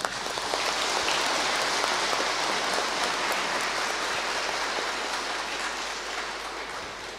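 Easter Mass congregation in a Vietnamese Catholic church gives a round of applause, a broad continuous hiss of many hands clapping together, steady and fairly distant, slowly thinning toward the end.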